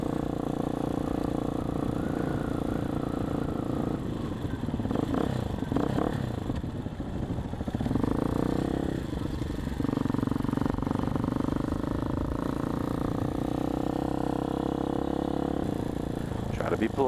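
A Hawk 250 motorcycle on a first long ride, its engine running at a steady, fairly quiet hum with a short rise in the middle, while people talk over it.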